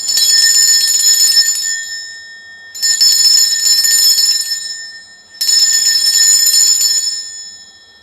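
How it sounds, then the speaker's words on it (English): A hand bell rung to cleanse a space sounds in three long, bright, shimmering bursts separated by short pauses, each fading out, loud and alone. "I am going to be ringing this bell."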